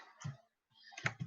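A computer keyboard gives a few quick clicks in two short bursts separated by a brief silence, close and fairly quiet.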